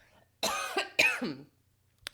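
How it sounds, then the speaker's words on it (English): Two sharp, close coughs in quick succession, throaty and loud, followed by a tiny click. "I'm about to cough"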